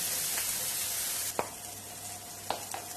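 Carrot and onion cooking down in a pan for chicken risotto, a soft steady sizzle broken by a few brief clicks of stirring, fairly quiet and close.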